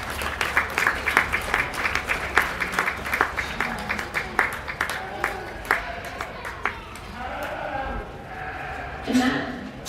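Spectators at a county fair sheep show for breeding ewe lambs clap in a moderate, uneven round that thins out after about seven seconds, giving way to crowd murmur and talking in an open show arena.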